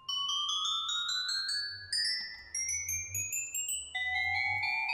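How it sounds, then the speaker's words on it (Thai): Bright bell-like chimes from a Minecraft note block placed on packed ice ring out in a rising series of clear pitched notes, each tone sustained and overlapping, played alone with no talk. "แพ็กไอซ์กำเนิดเสียงชายไหมครับ"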